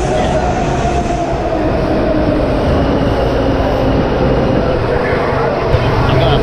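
Washington D.C. metro train at the platform, a steady loud rumble of railcars with hissing broadband noise throughout. It stays close and constant, with no clear talk over it.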